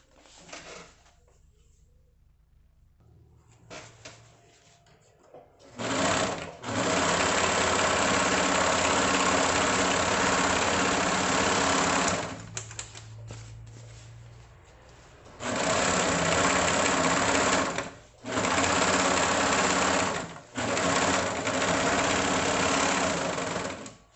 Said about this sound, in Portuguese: aqui na overlock, no modelo SS 320 da Sun Special